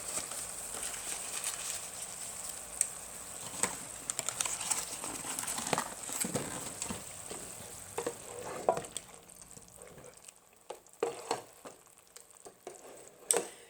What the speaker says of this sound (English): I'm going to add another stick of butter. This is my second stick of butter, unsalted butter.